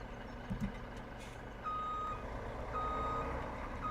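A truck reversing in Farming Simulator 17 gives off a steady, evenly spaced series of high beeps over a low engine rumble, moderately loud with no talking.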